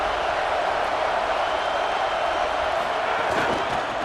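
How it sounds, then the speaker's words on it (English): A college football stadium crowd roars and cheers in a steady, dense wall of noise from a Kansas State versus Arkansas game, swelling slightly near the end. "This crowd rising up,"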